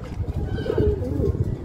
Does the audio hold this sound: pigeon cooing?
yes